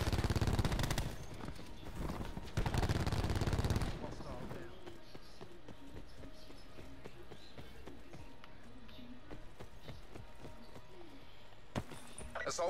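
Rapid automatic sentry turret gunfire in Call of Duty Black Ops 4 multiplayer, loud bursts in the opening seconds, then quieter game ambience with distant shots and announcer-style voice.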